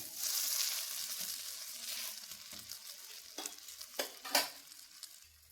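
Dosa frying in oil on a hot pan and being flipped, a soft steady sizzle with a few sharp scraping clicks near the end, fairly quiet and close.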